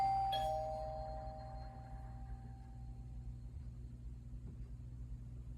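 A single bell strikes once, clear and bright, then fades into a long ringing decay over a low steady rumble.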